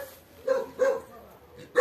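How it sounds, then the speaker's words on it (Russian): A dog barks a few times outdoors at a country house garden at sunset, short sharp barks at moderate distance with pauses between them, fairly faint. "Это собака Байкал, она всегда лает."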